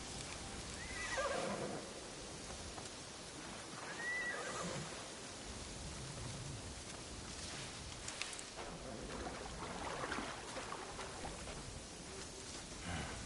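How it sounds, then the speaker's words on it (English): A horse whinnies twice inside the video game Assassin's Creed Shadows, loud, close cries standing out over a steady bed of ambient game noise, with faint hoof clops in the mix. "This horse has seen better days."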